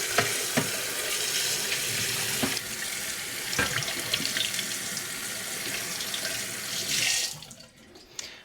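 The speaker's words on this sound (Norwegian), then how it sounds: "Så vask og skyll godt." Tap water runs steadily into a sink while home brewing equipment is rinsed, a close, broad rushing spray with occasional knocks and clanks of the gear, until the flow cuts off near the end.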